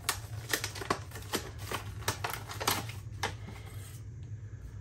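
Trading card packaging is torn open by hand, a close series of crisp, rapid tearing and crinkling snaps that stops abruptly near the end, leaving quiet room tone.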